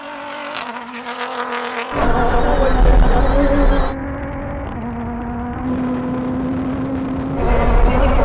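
A Toyota GR Hilux Dakar rally truck and a Land Cruiser 300 GR Sport launch in a drag race, engines roaring hard through rising gear shifts, loud and close with a brief tyre squeal.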